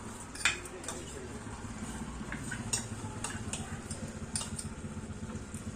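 Mustard prawn curry being stirred in a pan with ground cumin and mustard oil, light clinks and scrapes of a utensil against metal over a low simmering bubble, with faint background speech.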